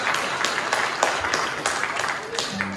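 Scattered, thin applause from a gospel concert audience in Groveton, Texas, a modest patter of clapping that rises and fades over a few seconds amid room murmur.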